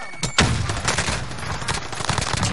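Rapid bursts of gunfire in a shooter game, a sharp crack at the start followed by a dense, continuous volley of shots, loud and close throughout.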